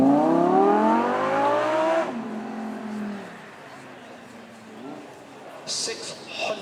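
An Audi R8 V10 supercar at a supercar weekend event, loud and close, with the engine note dropping sharply through the gears under hard braking, then a lower idle. Someone talks over it.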